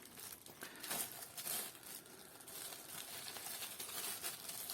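Plastic bags crinkling and rustling as parts of a Kelly Kettle base camp kit, including the pot support, are unwrapped; steady close crumpling with a few louder tearing bursts, no talk.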